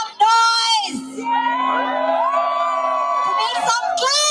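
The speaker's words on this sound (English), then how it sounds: "my audience, a request to make some noise" An audience at a stage event cheers and whoops on request, loud sustained yelling and shouting from a crowd with children's voices, lasting several seconds.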